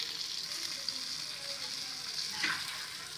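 Fish frying in oil on a flat dosa griddle gives a steady, close sizzle with faint crackle, holding an even hiss throughout and a brief louder flare near the end.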